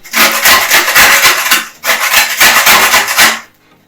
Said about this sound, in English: Let's grate our lemon.